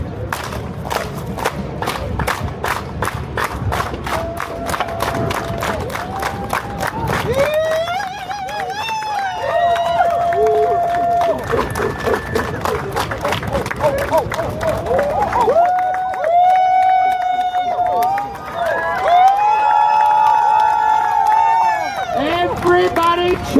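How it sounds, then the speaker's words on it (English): A street crowd in New York City claps and cheers together, rhythmic rapid clapping giving way to loud whooping and shouting, with a voice leading over the crowd throughout. "Everybody hands up! Everybody clap with me!"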